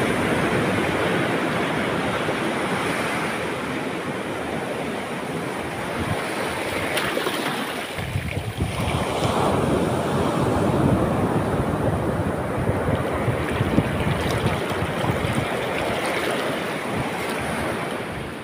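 Ocean surf along a seaside shore rolls in a steady, loud wash of breaking waves, with gusts of wind buffeting the microphone throughout and no clear voices.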